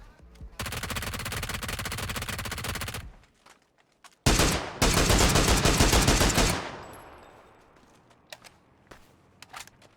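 Automatic gunfire in PUBG: two long, loud, rapid bursts of shots separated by a short pause, the second tapering off into scattered faint clicks and clatter.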